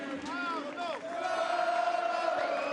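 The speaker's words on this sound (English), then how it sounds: "Not very often you get chanting like this at a finish, is it?" A partisan crowd of cycling fans chants loudly at the finish of La Famenne Ardenne Classic, rising and falling voices in a sustained, rhythmic roar, with a commentator talking over it.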